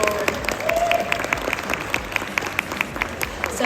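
Audience applause at the London International Horse Show 2023, a steady patter of many hands clapping through a large arena, with some voices and crowd murmur underneath.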